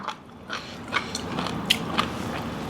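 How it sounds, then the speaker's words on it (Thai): Someone chews a spicy Thai chicken feet salad up close, with a series of sharp, crunchy bites and crackles spaced out over a few seconds. "เสียงดังกรุบกรุบ"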